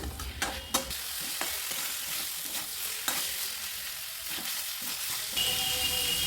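Potatoes and spices are stirred in a frying pan over a constant soft sizzle, with repeated scraping strokes and small clacks of the spoon against the pan throughout.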